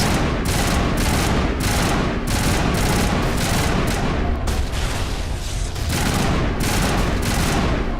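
Sustained, loud gunfire from a Mass Effect firefight against enemies, with dense bursts of shots and booms repeating throughout.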